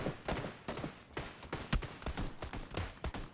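Rapid gunfire from a weapon in PlayerUnknown's Battlegrounds, a stream of sharp close shots in an uneven burst that fills the whole moment.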